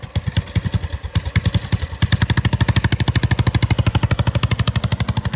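A motorcycle pulled out of winter storage, started on a cold day of about 20-something degrees, its engine thumping unevenly at first, then settling into a fast, steady, loud idle pulse close by.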